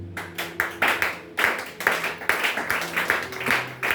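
A church congregation claps and applauds during a worship service, a steady run of sharp, close hand claps with uneven rhythm over a low room murmur.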